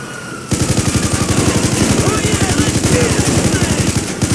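Rapid automatic gunfire from a gun in a PC video game, a loud steady stream of evenly spaced shots starting abruptly after a short pause and running continuously without talk.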